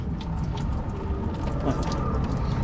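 A ratchet clicks steadily while removing bolts during water pump work on a Jeep Grand Cherokee, the quick pawl ticks sitting under a dense mechanical background.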